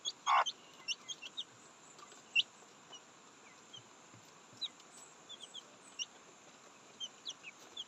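Young chicks chirp and cluck softly in a quiet coop, scattered peeps throughout with one louder call near the start, all faint and fairly close.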